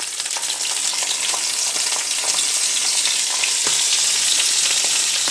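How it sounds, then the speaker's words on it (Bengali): Prawns fry in hot oil with turmeric powder, giving a steady, dense sizzle with faint crackles that runs loud and unbroken throughout. "এখন চিংড়িগুলো ভেজে নেব। তেলের মধ্যে দিয়ে দিলাম, আর দিব হলুদ গুঁড়ি"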